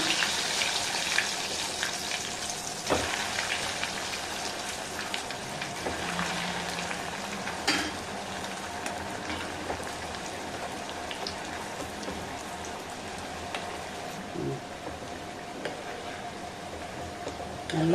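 Vegetable cutlets fry in hot oil over a medium flame, a constant crackling sizzle with scattered pops and a few clinks of a utensil, close and even throughout.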